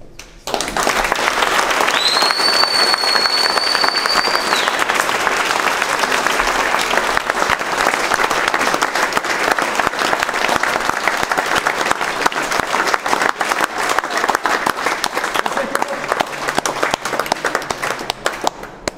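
Sustained applause from a large crowd at a rugby league championship final reception, steady and loud throughout, with a brief whistle near the start.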